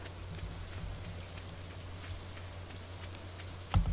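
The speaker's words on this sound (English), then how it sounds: "got sheets of rain coming down" Heavy rain pours steadily in the farming video game Stardew Valley, a continuous even hiss of falling water with no voices, holding a constant level throughout.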